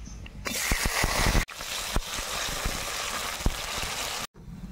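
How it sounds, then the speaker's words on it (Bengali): Onions sizzling in hot white oil in a wok, a steady close crackle with occasional sharp pops and brief clatters. "পেঁয়াজটা সুন্দর লাল লাল ভাজা হয়ে গিয়েছে"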